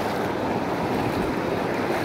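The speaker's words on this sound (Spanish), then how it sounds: "hoy decidimos venir al río" Broad steady rush of river water on a hot sunny day, where people have come to bathe in a shallow stretch, heard as continuous wash with some wind buffeting the microphone and no voices.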